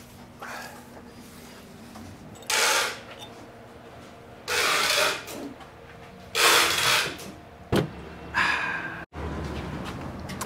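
Impact wrench or power tool bursts removing wheel lug bolts on a Mitsubishi 3000GT, several short whirring bursts separated by pauses, with clanks of metal in between; no talking.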